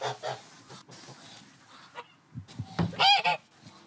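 Geese from a goose farm near Ludwigslust honk in scattered bursts, with a loud cluster of close honks near the end over quieter farmyard background.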